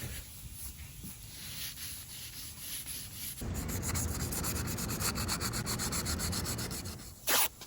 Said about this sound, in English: Feather edging is sanding down the hard edge, which is very thick, where we stopped the peeling of the paint.